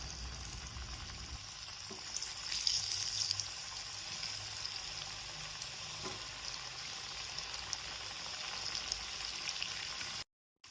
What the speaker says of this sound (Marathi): आणि थंड झाल्यानंतर या वड्या आपण तळून घेऊयात।